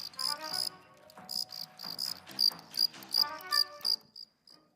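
Male cricket gives its rivalry call, a series of sharp, buzzing chirp pulses in clustered bursts, close and alone, fading out at the end.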